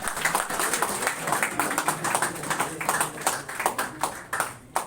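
Seminar audience applauding as Bihar judiciary toppers are honoured: dense, steady clapping from a large crowd in a hall, loud and sustained throughout without letting up.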